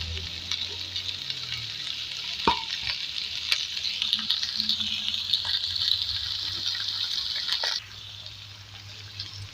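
Spiced chili purée simmering on low heat, a continuous bubbling sizzle with occasional clinks and a low hum, dropping quieter near the end.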